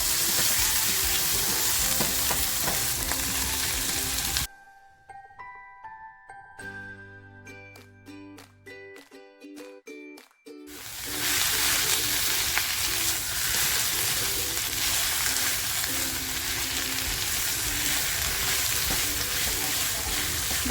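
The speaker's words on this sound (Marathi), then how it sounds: "आता जे मटण टेचून घेतलं आहे ना ते मी याच्यात टाकते" Pounded mutton sizzles loudly in a hot pan with a spoon scraping and stirring close by. The frying drops away briefly mid-clip while a few metallic clinks sound, then the dense sizzle returns.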